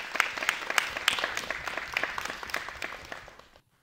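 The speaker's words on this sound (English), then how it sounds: "So one more round of applause for Breanne." An audience at a live music event claps for a performer, a fairly distant round of applause that fades out over a few seconds and ends in silence.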